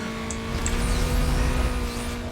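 Racing car engine in Need for Speed Most Wanted, a steady droning hum with a sustained low roar held through the whole short stretch, no voices over it.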